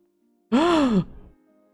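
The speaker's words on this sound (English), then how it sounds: "Audible gasp." A single voiced gasp from a Final Fantasy XIV character, a sharp rising-falling intake about half a second long, loud and isolated against quiet game ambience.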